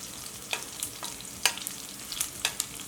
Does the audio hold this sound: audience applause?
no